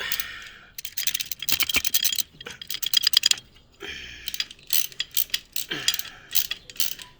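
Bolt being tightened on a Slingshot brake, giving bursts of rapid ratcheting clicks with short pauses between runs, close and fairly loud, no talking.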